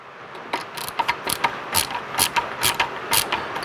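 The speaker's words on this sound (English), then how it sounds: "I think we're actually going to loosen up these deadbolt screws a little bit." Screwdriver loosening deadbolt screws on an electronic fingerprint keypad door lock, giving close, repeated small clicking and ratcheting scrapes in a steady uneven rhythm.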